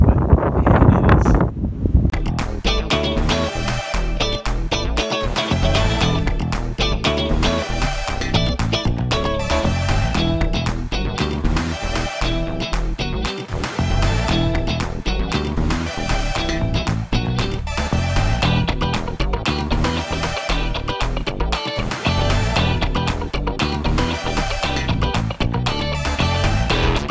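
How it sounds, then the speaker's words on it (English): Strong wind roars and buffets a microphone outdoors at a homestead where doors are being fitted, a loud continuous gusting rumble that fills the whole stretch with no talking. "Look how windy it is."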